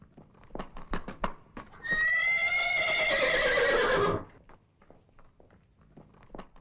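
A black horse in a film gives one loud, drawn-out whinny of about two seconds, with soft hoof clip-clops and footsteps before and after it.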